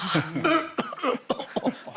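A series of close, harsh coughs in quick succession, several bursts over about two seconds.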